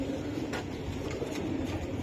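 Giribaj high-flyer pigeons for sale coo softly in a steady murmur, near but low in level, without anyone talking.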